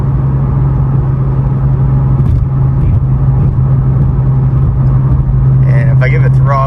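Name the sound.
cabin exhaust drone of a Nissan 370Z with DC Sports exhaust at 70 mph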